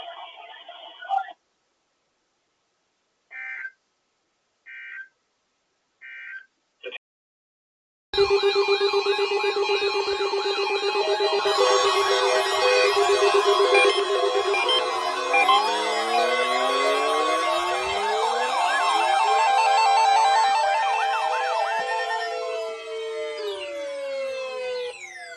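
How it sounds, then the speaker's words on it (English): Florida tornado drill Emergency Alert System required weekly test: after a few short data bursts and pauses, a loud, steady dual-tone warning signal sounds for about seventeen seconds, then shifts into sweeping tones as it ends. "Signal was a test of the public warning and alarm for transmitters in West Central and Southwest Florida listening areas"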